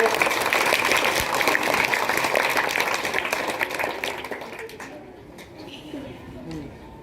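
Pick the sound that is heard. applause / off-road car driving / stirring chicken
applause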